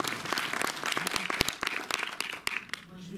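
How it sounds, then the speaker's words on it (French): Cinema audience at a film screening and Q&A in Montreuil applauding, a brisk patter of many hands at moderate distance with sharp individual claps, and a voice briefly audible beneath. "on peut applaudir Noé"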